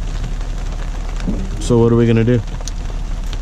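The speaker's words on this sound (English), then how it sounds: "However, it's raining." Rain falls steadily through a forest in Ocala National Forest, a continuous soft hiss beneath nearby voices in conversation.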